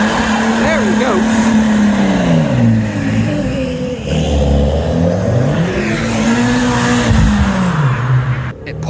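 A diesel Fiat Panda pulls away from a car meet, its engine note climbing and falling through gear changes, loud and close, while onlookers talk and shout over it.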